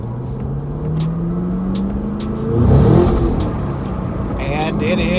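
A Cadillac Blackwing with a 6-speed manual gearbox accelerates hard, its engine note rising steadily, briefly swelling louder midway, while a person talks over it.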